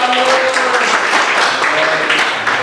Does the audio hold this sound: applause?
yes